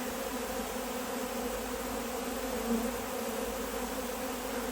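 Honey bees at an open feeding station for winter feeding, a steady dense buzz of many insects close by with a few wasps mixed in, continuous and even with no talking.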